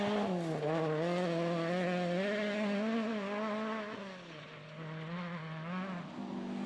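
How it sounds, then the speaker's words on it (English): A rear-wheel-drive Porsche and Ford Escort rally car at the Legend Boucles de Spa 2012 event, with one engine snarling and revving up and down through the gears. The sound is steady and fairly loud, with no talking. "Tim van Parijs and Philip Krakow were having a lot of fun in their rear-wheel drive cars, a Porsche and a Ford, respectively."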